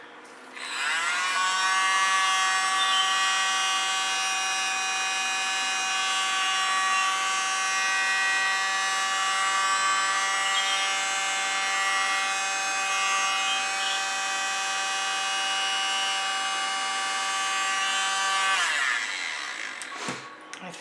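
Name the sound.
small electric blower spreading acrylic paint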